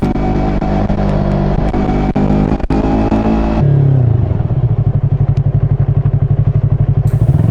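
Motorcycle ridden in steady rain along a rural road near Jeungpyeong, first a loud broad rushing roar of wind and rain, then the engine chugging in a fast, even pulse at close range.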